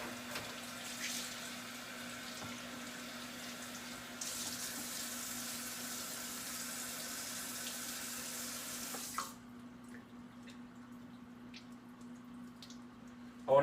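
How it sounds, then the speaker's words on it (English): Steady running water from a kitchen tap splashes over a 12-pound turkey being rinsed, a constant broadband rush for about nine seconds before the flow cuts off, leaving quieter room sound. "I'm going to take my turkey and rinse it."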